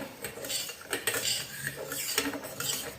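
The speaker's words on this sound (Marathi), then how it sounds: "आता हे चांगलं मिक्स करते मी" A spoon stirs sugar into a banana shikran dish, giving a steady run of clinking metal-on-bowl scrapes and taps at close range, loud and uneven in rhythm, with no one speaking.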